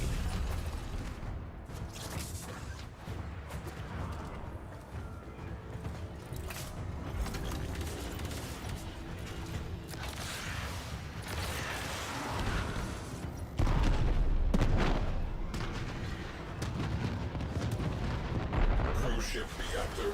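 A detonation in a sci-fi shooter game, heard as a loud, sustained rumbling boom with heavy low-end roar and mechanical noise, swelling midway and continuing under game sound effects and faint speech.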